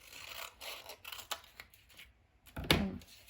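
Scissors snip through a paper sticky note, a few soft crisp cuts spaced out, ending in one louder, closer snip; quiet surroundings with no talking.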